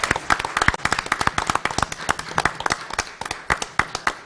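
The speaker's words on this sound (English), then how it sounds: "let's give them another round of applause" Applause from an audience at a school board meeting honoring the district Teacher of the Year, with sparse, distinct claps from a modest crowd at a steady close-miked rhythm, no talk over it.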